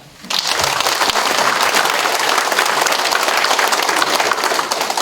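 Audience applause at a Korean city mayor's New Year visit to a township hall, breaking out suddenly after a brief pause and holding steady, loud and dense clapping from a large crowd with no talk over it.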